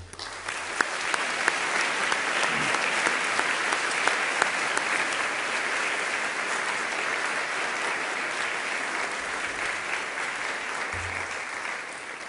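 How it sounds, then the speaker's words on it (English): Sustained applause from a college alumni awards audience for a reunion class, a broad even roar of many hands clapping for about twelve seconds with a few sharper claps standing out early on. "So let's give them a round of applause."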